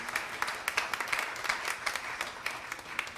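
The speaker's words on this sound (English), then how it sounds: "just go ahead and clap your hands and thank God for the experience" A church congregation claps hands during a Friends & Family Day morning service, steady irregular applause close and fairly loud.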